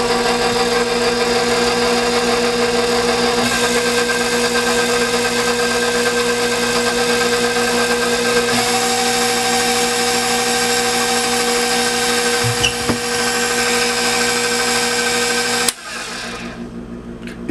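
A blender spins a mix of milk, eggs and sugar for eggnog, a loud, steady motor whine with constant whirring that runs close and unbroken, then drops abruptly near the end to a quieter hum.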